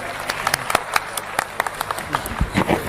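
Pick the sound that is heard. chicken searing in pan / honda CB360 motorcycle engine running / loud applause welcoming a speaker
loud applause welcoming a speaker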